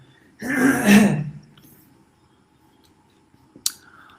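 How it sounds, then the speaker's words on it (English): A single throat clearing, close and fairly loud, lasts about a second. Near-silence follows, broken only by a faint click. "let me clear my throat"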